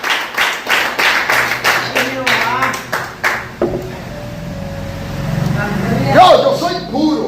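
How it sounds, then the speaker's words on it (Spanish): Loud, rhythmic hand claps at a steady beat during an evangelical sermon, about a dozen sharp claps, then they stop and a voice speaks with a faint background hum. "dale un aplauso al Señor"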